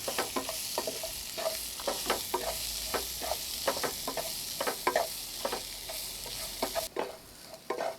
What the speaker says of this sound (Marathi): इथे एक 4 ते 5 मिनटं मी मटार छान परतून घेतले